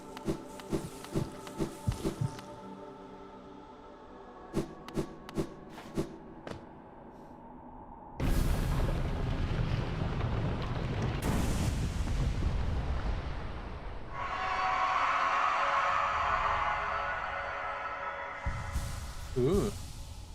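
Enemies exploding in the video game Hollow Knight, a few sudden loud broadband bursts amid game sound effects and scattered thumps.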